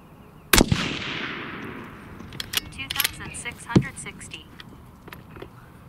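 A single loud crack from an Impact 737 custom rifle firing a 6.5 Creedmoor round, sharp and close with a long decaying echo, followed by clicks and rattles of handling.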